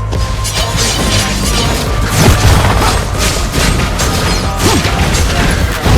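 Turret destroyed in the Mobile Legends video game, with loud, dense crashing and booming impacts layered over clattering battle effects for several seconds, without talk.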